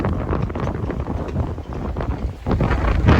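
Strong gusting wind buffets the microphone on a shoreline walk along Lynn Shore Drive, a constant loud rumbling roar that swells near the end, with no voices.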